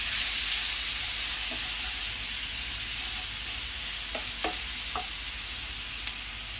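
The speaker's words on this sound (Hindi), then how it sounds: "इसे अच्छी तरह मैं भून लेती हूँ।" Ginger-garlic paste fries in masala for urad dal kadhi, a steady close hissing sizzle with a few faint clicks of stirring.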